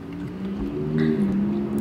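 Several cars rolling past on a road nearby, a steady broad engine and tyre hum that swells and fades as vehicles go by, with no talk over it.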